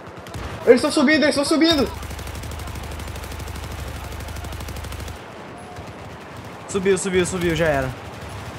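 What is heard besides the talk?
gunfire in video game Battlefield 4 zombie mode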